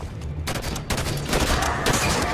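A burst of heavy gunfire in a Halo 5 cutscene, a loud dense fusillade of overlapping shots and automatic fire, with a brief lull before the firing resumes and continues to the end.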